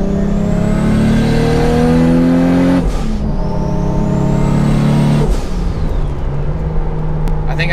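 A 2JZ-engined Toyota Supra accelerates hard, the engine revving loud and close through rising gear pulls with brief drops at two shifts before easing off near the end.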